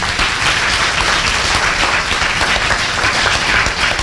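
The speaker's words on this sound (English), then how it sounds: "please give them a round of applause" An evening audience applauds the speakers after a question and answer session, a dense, even roar of many hands clapping continuously without pause.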